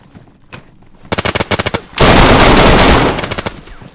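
Loud bursts of automatic gunfire in the survival game DayZ, first a rapid series of sharp shots, then a sustained, dense volley that trails off into a few scattered final shots.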